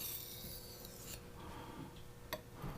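A petty knife blade drawn across a sharpening stone makes soft, gritty rubbing strokes, quiet and close, with a couple of sharper scraping accents.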